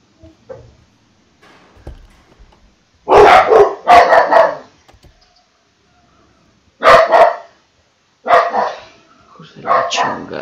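Dogs barking in the Life Is Strange video game: several loud bursts of barking in clusters, with quieter gaps of faint movement between them.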